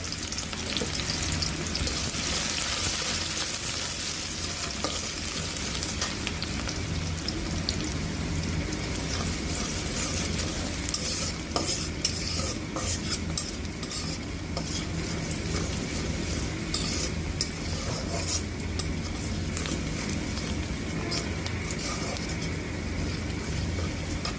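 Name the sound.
stirring and frying Malabar spinach greens in a pan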